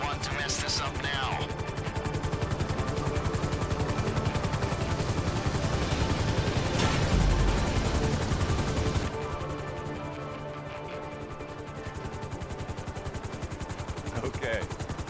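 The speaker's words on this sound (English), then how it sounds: "Bring the chopper down easy." A helicopter flies in GTA Online during a heist setup mission, its rotor chopping in a steady, dense, continuous drone that stays loud throughout, briefly mixed with what may be gunfire, with voices speaking over it.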